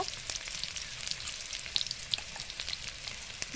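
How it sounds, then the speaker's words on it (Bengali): Onions frying in a pan for biryani, a continuous soft sizzle with scattered small pops and crackles, fairly quiet and with no voices. "পেঁয়াজটা একটু ভাজা ভাজা হয়ে গেলেই তার মধ্যে দিয়ে দেব"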